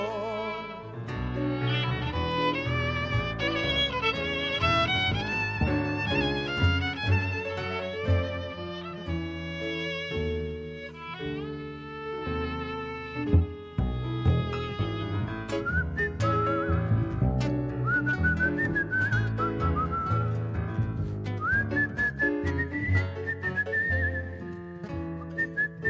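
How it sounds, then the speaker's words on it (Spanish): A person whistles a tango melody, clear sustained tones gliding through a tune with a steady rhythm, close and alone with no talking, during a morning television broadcast in Uruguay. "Déjame que te silbe una canción."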